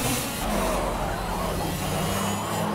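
A kart's engine drones in the racing video game Project Cars, a steady buzzing whine held throughout with slight pitch shifts, fairly loud and alone.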